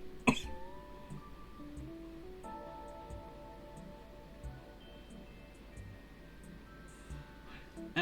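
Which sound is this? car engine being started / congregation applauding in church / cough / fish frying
cough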